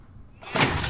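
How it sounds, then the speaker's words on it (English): A video game door swings open and shuts, sounding as one short thudding knock and bang that is loud and close, with nothing else around it. "I must check if this door still works"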